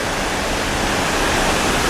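A high, swollen river rushes through rapids near a waterfall at a state park, producing a constant broadband roar of churning water, loud and close with no voices.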